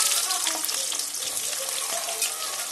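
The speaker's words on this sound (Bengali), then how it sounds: "চিলি চিকেনের পেঁয়াজটা এর মধ্যে আমি প্রথমে দিয়ে দিচ্ছি পেঁয়াজ" Sliced onions for chili chicken fry in hot oil left over from pakoras, giving a steady, dense sizzle that holds at an even level throughout.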